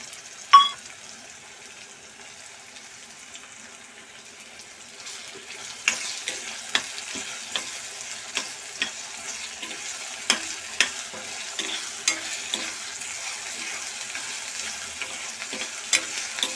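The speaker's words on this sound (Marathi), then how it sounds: "चांगले परतून घेणार आहोत आपण याला ते बघा आता याच्यात मी आला आणि लसूण घालते किसलेले" Grated ginger and garlic sautéing in oil: after a quiet start and one thump, a soft steady sizzle builds, broken by regular clicks of a spoon stirring against the pan, close and moderate.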